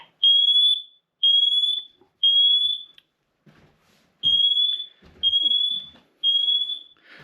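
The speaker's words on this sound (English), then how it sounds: "So that was the Siterwell Smoke CO Detector" Siterwell combined smoke and CO detector sounding its alarm: six loud, piercing high-pitched beeps in two groups of three, separated by a short pause, close and alone.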